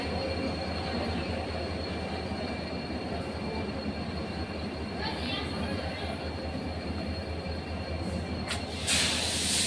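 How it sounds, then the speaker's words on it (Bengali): A train pulling into a station makes a loud continuous rumble with steady high-pitched wheel squeal and tonal whine, a burst of hissing brakes near the end. "অল্প লেটে আসলো ট্রেন"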